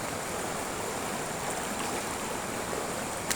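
Broad, steady rush of river water flowing during a crossing, a continuous wash of noise holding even and fairly close throughout with no talk.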